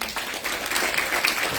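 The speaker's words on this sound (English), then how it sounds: "Yes, she truly needs a big round of applause." Audience applause at an Odissi classical dance debut performance, a dense, steady wash of many hands clapping that holds evenly throughout without pause.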